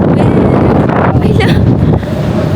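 Strong wind buffets the microphone on the open deck of the Costa Serena cruise ship at sea, a loud continuous rush with a brief voice mixed in.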